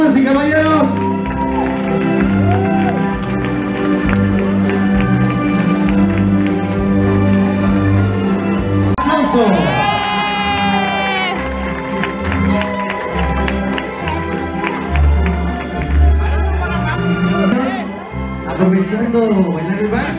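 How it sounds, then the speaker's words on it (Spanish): Party guests clap, cheer and whoop loudly over thumping music while a host's voice urges them on, the crowd noise swelling and surging throughout. "Fuerte el aplauso, damas y caballeros."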